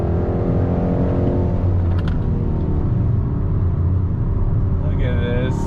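A 2021 Hyundai Sonata N Line sport sedan driving, a steady engine and road rumble running loud throughout with a brief tonal whine near the end.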